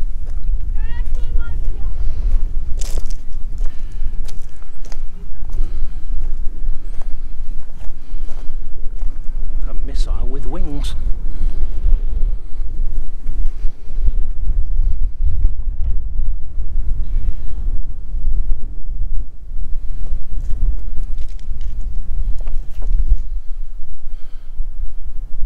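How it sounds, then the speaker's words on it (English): Strong wind buffets the microphone with a constant low roar and gusty rumbles throughout, with faint voices talking beneath it. "it's really windy today"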